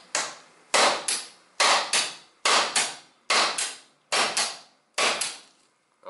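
Motorcycle chain link pin being punched out with a hammer and punch: seven loud, evenly spaced metallic blows, each ringing briefly, close up with no talk.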